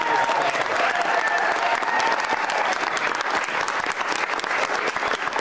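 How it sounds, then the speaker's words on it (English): A studio audience on an Irish morning TV show claps and cheers loudly, sustained applause with whoops and shouts filling the whole stretch. "I just want everyone to clap and scream and shout."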